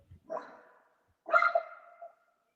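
A dog lets out two barks indoors during a casual conversation, the second longer and louder with a trailing whine, separated by a brief quiet gap.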